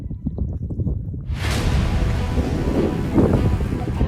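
Wind blows outdoors near a marsh and rocks at a campsite. After a brief quieter start, a loud, rough rush of air batters the microphone and stays steady to the end.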